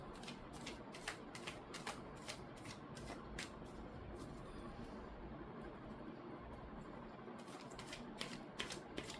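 Tarot cards being shuffled and drawn, a run of crisp papery riffles and slaps close by, with a quieter stretch midway before the flicking resumes.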